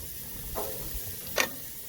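Lamb chops sizzle on a hot grill with a constant bright hiss and a couple of brief louder spits, close and fairly quiet, with no speech.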